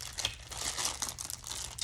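Plastic packaging on a 2006 Simpsons bust-up toy crinkles and crackles as it is pulled open, a close, busy rustle of crumpling and short tearing sounds with no talking.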